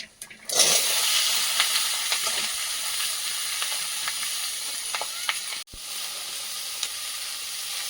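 Raw ground spice paste drops into hot oil and bursts into loud, close sizzling. A steady frying hiss follows, broken by a few stirring clinks and a brief cut.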